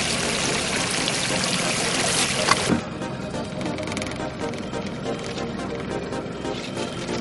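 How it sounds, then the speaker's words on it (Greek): Water poured over a nylon fishing longline to soften it, then draining quickly through the many holes of a perforated basin; a steady broadband splashing and trickling that eases slightly after a louder surge near the middle, with no talking. "Βρέξιμο του παραγαδιού με άφθονο νερό για να μαλακώσει νάιλον και στράγγισμα του νερού."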